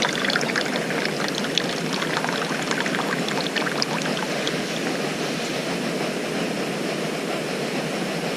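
Water pours steadily through a hiking water filter outdoors on a multi-day Alpine hike, a close, continuous trickling rush that holds an even level throughout with no talk over it.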